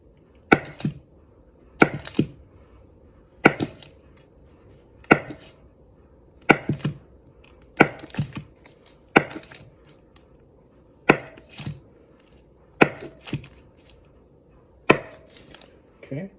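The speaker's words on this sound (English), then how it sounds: "So I'm gonna cut them up into small cubes." A knife chops food into small cubes on a cutting board, making about a dozen crisp, close thuds in an uneven rhythm over a quiet room with no talking.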